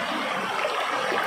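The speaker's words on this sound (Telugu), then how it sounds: "ఇది కోనేరు నుంచి వచ్చే వాటర్" Water flowing out of a temple pond at the Japali Theertham site in Tirumala, a steady, close rushing stream that holds at a constant level throughout.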